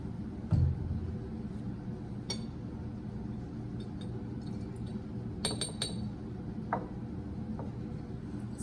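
Glassware holding a sulfuric acid solution gives off a handful of faint, sparse clinks while it is being stirred, over a steady low room hiss.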